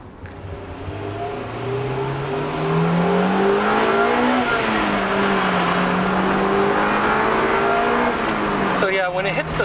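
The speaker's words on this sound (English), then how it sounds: "just wait for that vtec to kick in." A Honda Civic Type R engine revs up loudly and close, its pitch climbing and dipping as VTEC engages, with the drone sustained to the end.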